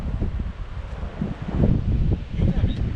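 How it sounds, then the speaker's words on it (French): Strong outdoor wind buffets the microphone in loud, gusting rumbles throughout, with surges near the middle and end, while a person talks over it. "Le vent!"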